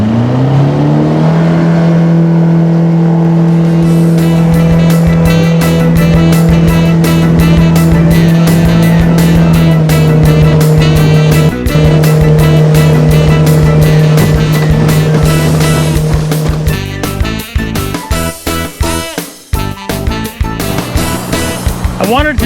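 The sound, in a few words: motorboat engine running on Cowlitz River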